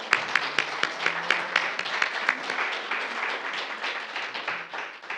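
A small congregation at a Korean church Sunday service claps, starting with sharp, distinct claps that blend into steady, fairly close applause before tapering off.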